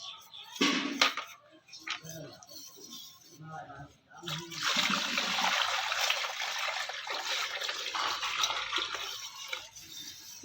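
Raw full-fat milk poured bit by bit into wheat flour and stirred by hand, a steady liquid trickle and splashing that swells and keeps going, with brief talk near the start.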